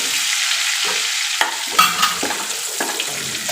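Whole spices (dried red chili, bay leaf, cinnamon pieces, cloves, peppercorns and curry leaves) sizzle in hot oil as a spoon stirs them, a close, steady hiss broken by scraping taps, with no talking.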